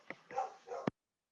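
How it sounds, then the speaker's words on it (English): Dogs passing by outside give a few short barks and yips, fairly faint and distant, ending in one sharp bark before silence. "I'm pausing for a moment until the dogs pass"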